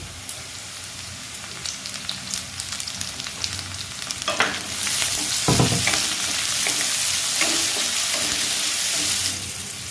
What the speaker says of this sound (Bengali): এবার আমি এতে কুচিয়ে রাখা ক্যাপসিকামগুলো দিয়ে দেবো।